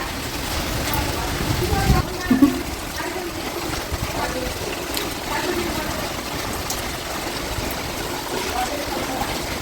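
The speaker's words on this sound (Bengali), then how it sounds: "সকাল থেকে বৃষ্টিটা শুরু হয়েছে" Steady rain falling outdoors on a morning with the power out, a broad even wash of patter with a brief louder knock near the two-second mark, continuous throughout and fairly close.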